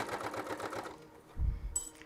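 Sewing machine stitching cotton fabric onto cotton, a rapid rhythmic clatter for about a second, then stopping with a low thump and a brief mechanical click.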